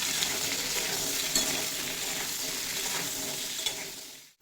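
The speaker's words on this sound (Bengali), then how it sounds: "সাথেই দিয়ে দেব স্বাদ মতো লবণ আর পরিমাণ মতো হলুদের গুঁড়ো দিয়ে খুব ভালোভাবে ভেজে নেব।" Potatoes and cauliflower fry in a pan with salt and turmeric powder, making a loud, steady, close-up sizzle with stirring that carries on unbroken before cutting off abruptly.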